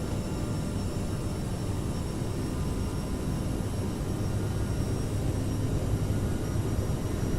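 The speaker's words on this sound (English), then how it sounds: "Takeoff thrust set, indications normal." CRJ1000 jet engines at takeoff thrust in a flight simulator give a loud, steady roar with a constant whine, unbroken throughout.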